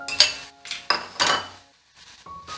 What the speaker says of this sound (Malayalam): ഉടച്ചു വെച്ചിരിക്കുന്ന ഉരുളക്കിഴങ്ങും കൂടെ ചേർത്ത് നന്നായിട്ട് ഇത് മിക്സ് ചെയ്തെടുക്കാം